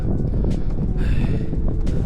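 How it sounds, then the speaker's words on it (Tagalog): Loud, continuous wind buffeting the microphone with a rumbling roar, gusty flutters and brief rustling bursts throughout. "Ay grabe yung hangin ah."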